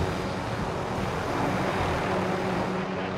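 A helicopter in the Call of Duty Warzone video game on Rebirth Island drones as a steady, loud, dense rotor-and-engine roar, close and continuous throughout.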